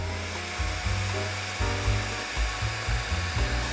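A hair dryer blows over a watercolour pencil painting of a flower field to dry the dissolved colour, giving a steady close whoosh that wavers slightly in pitch and strength, with no voices.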